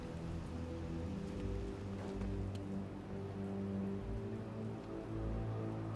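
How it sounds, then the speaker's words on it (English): Steady rain patters down over low, sustained musical tones, with no voices, in the video game Batman: Arkham Knight. "What's with all the rain?"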